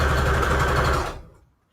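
Sewing machine stitching fabric and lace scrap trim for a junk journal, a steady close whirring run of rapid stitches that stops after about a second, leaving quiet.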